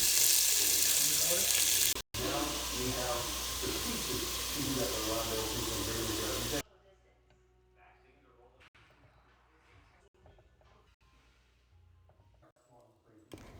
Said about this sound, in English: Start by cooking and seasoning your stew meat